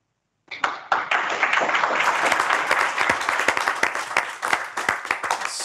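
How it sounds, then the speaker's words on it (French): Sustained audience applause at a Paris eloquence contest final, beginning abruptly after a moment of silence, with sharp individual claps rising into a dense, loud, continuous ovation. "Sous les applaudissements nourris ici à Paris"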